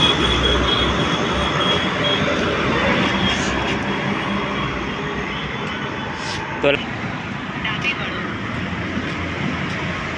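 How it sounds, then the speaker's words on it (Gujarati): A loud, steady jet roar of an airplane passing overhead in Ahmedabad, broad and sustained, fading slightly over time with a few faint background noises. "જો મિત્રો વિમાન જાય છે"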